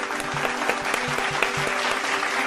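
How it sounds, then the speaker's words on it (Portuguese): Dense crowd applause fills the short stretch as a steady, even wash of clapping at constant loudness, with no talk over it. "Então já merece uma salva de palmas."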